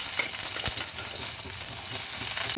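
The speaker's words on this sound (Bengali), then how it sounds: "আমরা পেঁয়াজটাকে একটু ভালো করে লাল লাল করে ভাজবো" Chopped onion fries with cumin seeds in hot oil, a close, steady sizzle with a few brief spoon taps and scrapes, no talking.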